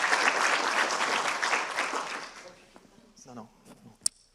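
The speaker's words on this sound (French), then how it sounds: "On l'applaudit aussi parce que c'est son premier discours." An audience at an awards ceremony applauds a speaker giving a first speech. Loud, dense clapping fills the first two and a half seconds, then thins and fades to a few scattered claps and a sharp final clap.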